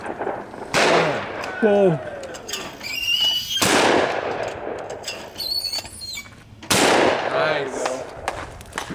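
Shotgun blasts at an outdoor sporting clays range in Idaho, with three sharp loud reports spaced several seconds apart, each followed by a fading tail. People chat and react between the shots.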